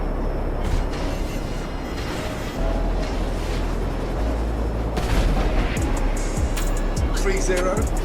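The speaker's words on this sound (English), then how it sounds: "While I was enjoying watching this loser waste all his Mark II rockets" Mark II rockets launching and exploding in GTA Online, booming blasts and whooshes spread across a continuous roar of game noise, with someone talking over the action.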